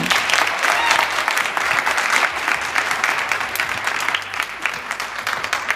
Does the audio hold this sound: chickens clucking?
no